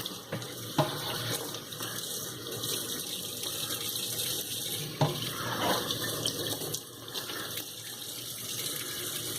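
Tap water runs steadily into a kitchen sink as a freshly cut backsplash tile is rinsed of gunk, with a continuous splashing hiss and occasional clunks and knocks of the tile being handled.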